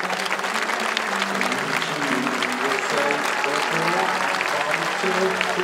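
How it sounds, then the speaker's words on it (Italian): Audience applause at a live stand-up comedy show in Acqui Terme, a loud, dense, continuous clapping from a large crowd, with some voices and tonal sounds mixed underneath. "un applauso appunto per voi"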